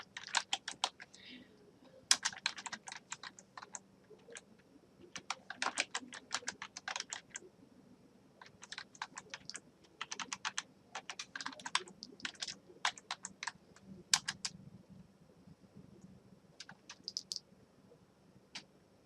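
Clattery computer keyboard typing in bursts of rapid keystrokes with short pauses between, close and crisp, while a person talks quietly in the background.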